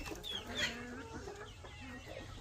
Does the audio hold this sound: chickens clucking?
yes